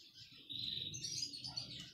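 A small pet parakeet chirps inside its cage in a short burst of high, bright tweets over a soft, low rustle, faint and close.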